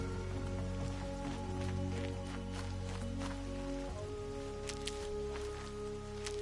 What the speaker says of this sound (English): Everything's sharp and looming in the rain.